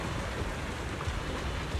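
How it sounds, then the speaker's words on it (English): Steady rain in the video game Zenless Zone Zero makes a continuous, even hiss of falling water, with no voices over it. "It wasn't heavy rain like now, but the sky was just as dark."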